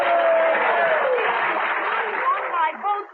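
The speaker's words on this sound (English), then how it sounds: "Your applause is heartwarming, and I am grateful." Audience applause for a senator's victory speech in a classic old-time radio drama, a dense wash of clapping and crowd noise at steady level, thinning toward the end with a voice briefly emerging.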